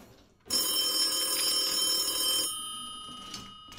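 A telephone in the Resident Evil 7 video game rings loudly with a bright, sustained electronic bell tone for about two seconds, then fades into a softer lingering ring.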